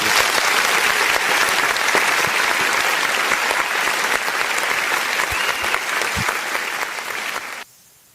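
An audience applauds in a sustained, dense roar of clapping that stays loud and even for about seven seconds before cutting off sharply.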